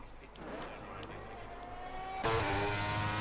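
A McLaren race car's engine in a racing game at an Austria round drones steadily, then its whine jumps louder and higher near the end, with commentators talking over it.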